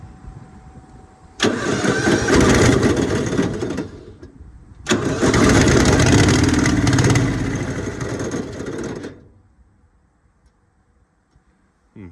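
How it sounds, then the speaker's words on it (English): A Hydra-Mac 8c skid steer with a weak battery cranks on choke in two loud bursts, catching and running roughly for several seconds each time before cutting out into near silence. "With the choke on, it'll kind of start."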